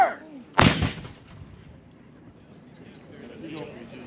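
A historic cannon fires live at Old Fort Niagara, one sharp booming blast with a rumbling tail that fades over a few seconds into outdoor crowd murmur.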